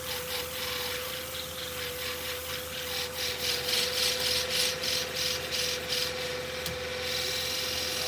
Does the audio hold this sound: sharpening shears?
yes